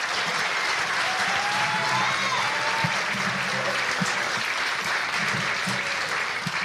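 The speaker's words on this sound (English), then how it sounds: "Let's give another round of applause to all of our soloists." An audience at a high school fall concert gives the soloists a full, sustained round of applause, even and continuous from start to finish, with faint cheers mixed in.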